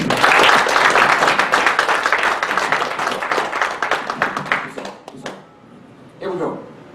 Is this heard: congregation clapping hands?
yes